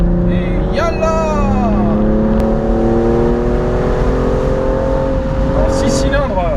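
A BMW M235i cabriolet's six-cylinder engine revs loudly after a downshift, rising in pitch steadily through the run with a throaty, sustained howl close to the microphone.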